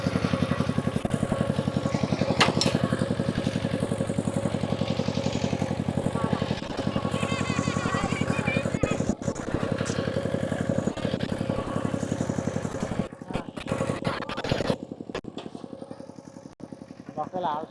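A small tractor plows a field, its engine chugging in a rapid, steady clatter close by for the whole stretch, with people talking over it and the engine briefly dipping near the end.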